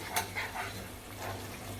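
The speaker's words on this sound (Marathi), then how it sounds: "आता आपलं कालवण चांगलं उकळलं आहे" Bombay duck curry in green masala simmering in a pan, giving a soft, continuous bubbling and sizzling hiss heard up close with no talk.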